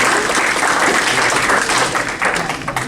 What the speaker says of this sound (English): So everybody give a warm applause to our new member